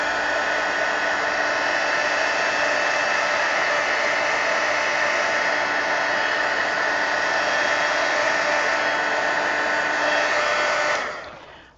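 A hair dryer blows steadily to dry paint on an altered book, a loud constant whooshing hum that runs unbroken for about eleven seconds before cutting off; no talking.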